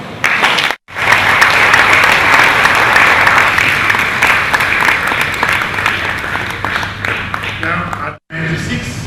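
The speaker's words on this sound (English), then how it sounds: "So let's give Edwin Clark another rise of applause." Loud, sustained audience applause honoring 96-year-old Edwin Clark at his book reading and presentation, a dense wash of many clapping hands that briefly drops out near the start and again near the end.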